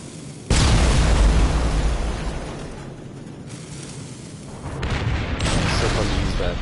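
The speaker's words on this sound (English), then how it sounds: "the explosions look pretty good, actually" Explosions in Terminator Resistance: a sudden loud boom with a deep rumbling tail that fades, then another swell of blast noise, with a voice talking faintly underneath.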